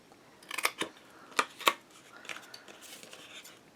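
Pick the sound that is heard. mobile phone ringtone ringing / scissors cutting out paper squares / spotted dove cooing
scissors cutting out paper squares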